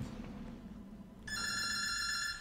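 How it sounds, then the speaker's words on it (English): A telephone bell starts ringing partway through and trills continuously over a steady low background hum, at moderate volume. "Oh, phone is ringing."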